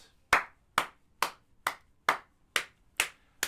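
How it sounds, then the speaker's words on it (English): Eight single, evenly spaced claps ring out alone in a quiet room, each a sharp slap with a short decaying tail, about two per second. "Round of applause for T.B. Douglas."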